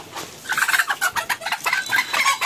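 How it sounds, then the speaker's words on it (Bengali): A chicken on a farm clucks loudly and agitatedly at close range while being caught, a rapid series of sharp, squawking calls with no talking. "ভিউয়ার্স, ফাইনালি ধরে ফেলেছি এই মুরগিটা"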